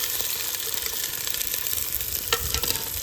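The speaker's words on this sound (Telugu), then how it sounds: "ఇంకా మనమైతే నెక్స్ట్ ఆనియన్స్ అయితే వేసుకుందాం." Onions hit two tablespoons of very hot oil for a village-style chicken biryani, giving a close, dense, continuous sizzle and crackle.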